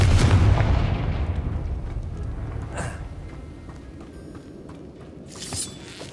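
Confringo fire spell detonating in the video game Hogwarts Legacy, a loud booming blast at the start that rumbles and fades, followed by a softer crackling burst near the end, with no talking.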